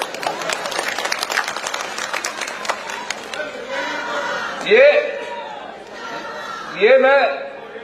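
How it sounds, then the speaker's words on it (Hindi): Women in a political rally crowd clap in a brisk burst of applause that dies away after a few seconds, followed by talk and a couple of loud shouts from the gathering. "तो जोरे ने तालियां बजाओ ना लेडीज"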